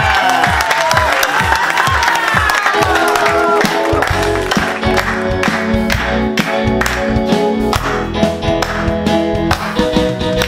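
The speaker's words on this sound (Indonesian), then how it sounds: "Tepuk tangan buat Tuhan kita." Children at an online Sunday school service clap their hands in a steady, loud rhythm alongside music and singing, with some shouting voices mixed in throughout.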